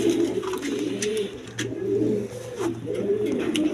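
A pair of racer pigeons at a Bangladeshi seller's loft give repeated low, throaty coos, rising and falling in a steady rhythm close at hand, over a constant low hum, with no voices.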